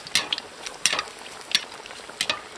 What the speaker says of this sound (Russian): Снизу картофель обжарился, вот хорошо, переворачиваем. И обжариваем с этой стороны